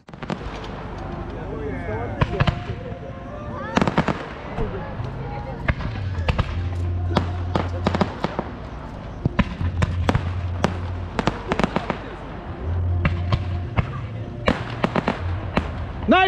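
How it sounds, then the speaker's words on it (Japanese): Evening fireworks launched into the sky at a Japanese four-wheel-drive festival burst in a dense, irregular series of loud booms and crackles, near and echoing, with crowd voices and chatter underneath. "19時30分より花火が空に打ち上がります。"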